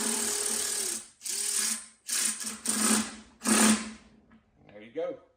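Mini milling machine motor whirring in bursts as a ratchet runs up and tightens the drawbar, the loud whine starting and stopping several times before a short voice at the end.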